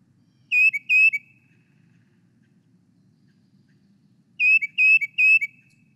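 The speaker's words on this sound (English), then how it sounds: "And let's hear it. It's a tufted titmouse." A tufted titmouse sings two clear whistled phrases a few seconds apart, first two then three quick, slurred notes, bright and fairly close over faint low background hum.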